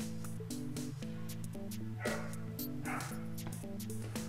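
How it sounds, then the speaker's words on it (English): A dog outside barks over and over in a fast, even rhythm. The loud, continuous barking fills the whole stretch with no speech. "I'm really sorry for this dog outside barking."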